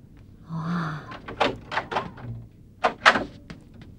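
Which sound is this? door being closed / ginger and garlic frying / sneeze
door being closed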